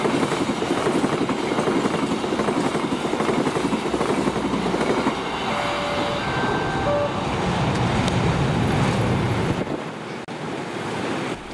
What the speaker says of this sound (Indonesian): Berikutnya kereta api Argo Sindoro.